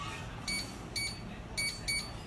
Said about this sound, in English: then hit A, and it'll double beep